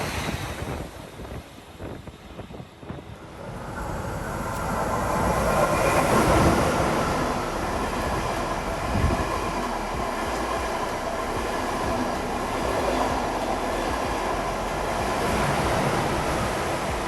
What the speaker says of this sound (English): Our Intercity Direct service runs express through Amsterdam Lelylaan and Amsterdam Sloterdijk